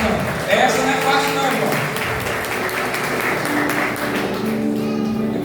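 Church congregation applauding together during a pastor's anniversary service, a steady wash of clapping that stays loud throughout, with music and voices mixed underneath.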